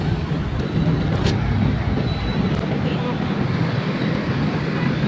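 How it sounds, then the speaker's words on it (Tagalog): Heavy road traffic on EDSA, a busy street in Metro Manila, a continuous broad rumble of vehicles and wind with a few faint higher passing sounds. "I'm now in the busiest street in Metro Manila, EDSA."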